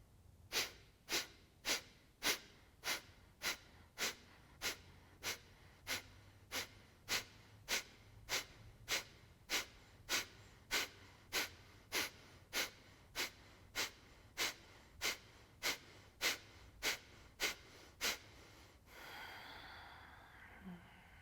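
Breath of Fire yoga breathing: about thirty rapid, sharp, evenly paced exhalations through the nose, close and alone, ending in a longer release of breath.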